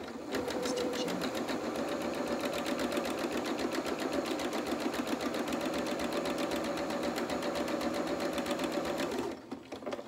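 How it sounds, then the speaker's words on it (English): A sewing machine runs continuously, stitching lace for French knickers with a steady rapid mechanical chatter, close and alone, before stopping near the end. "you don't get those tangled in stitching"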